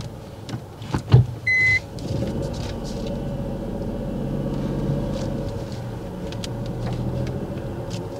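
A car reverses during a parking maneuver on a driving test, heard as a steady low engine rumble from inside the cabin with a brief mechanical whir near the start.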